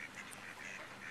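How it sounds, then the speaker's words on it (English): Mallard ducks quack faintly in a steady scatter at Allen Park on the Illinois River in Ottawa, Illinois, heard from a distance with no voices. "I think we have a mallard sighting"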